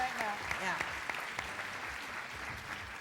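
An audience at a 1988 fashion show claps for the models in a sustained, moderately distant round of applause, with a few brief voices mixed in.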